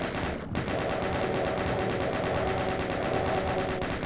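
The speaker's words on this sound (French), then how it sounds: "J'utilise la machine gun parce que c'est l'arme. C'est une arme qui est pas très puissante mais qui est rapide." Rapid machine gun fire in the Doom game, a fast, even stream of loud close shots repeating without break for the full stretch.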